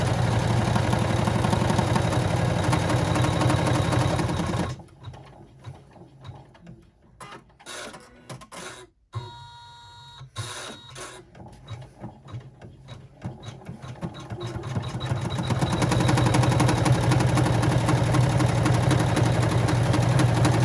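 An embroidery machine stitching a triple bean-stitch outline on a snap tab: a steady, loud mechanical whir runs at the start, drops to quieter clicking and tapping in the middle, then builds back to the continuous hum.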